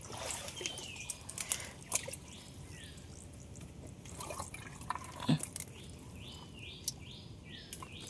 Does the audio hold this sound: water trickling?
yes